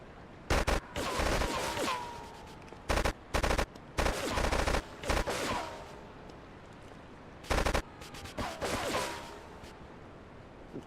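Bursts of AK-47 fire in GTA III Definitive Edition, several rapid automatic volleys separated by short pauses, loud and close over a low game background.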